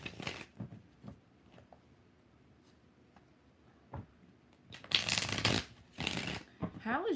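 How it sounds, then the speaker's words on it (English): Tarot cards being shuffled by hand, with brief riffling bursts early on, then louder, longer shuffles and snapping card sounds toward the end, close and crisp, with quiet pauses between. "3 shuffles."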